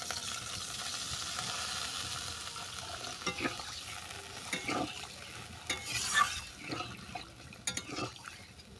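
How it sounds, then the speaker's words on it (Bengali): Potatoes and bitter gourd are stirred with spices in a pan, giving a soft, steady scraping and low sizzle with scattered louder spoon strokes toward the end, close by with no talk. "আলু আর করলা মশলার সঙ্গে মিশিয়ে নিলাম।"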